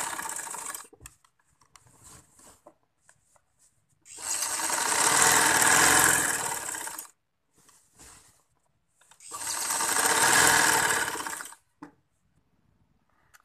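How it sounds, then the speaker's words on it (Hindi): A sewing machine stitches elastic into a trouser waistband in two fast, steady runs of a few seconds each, separated by near-silence and small handling noises, with no speech. "अब मैं इसकी सिलवटें सीधी करके इसके ऊपर से सिलाई लगाती हूँ।"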